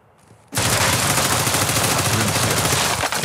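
Sustained rapid gunfire in Call of Duty: Modern Warfare 2, bursting in loud and close after a quiet half-second and continuing as a dense, rattling automatic barrage to the end.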